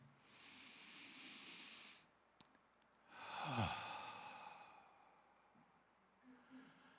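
A deep breath drawn in and let out in a long, soft exhale during a guided church breathing exercise, loud and close, followed by a quieter second breath trailing off.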